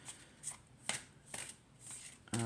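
A Dark Mirror Oracle card deck being shuffled up close, a run of crisp papery riffles at an irregular pace ending in a denser flutter of cards, with no talking.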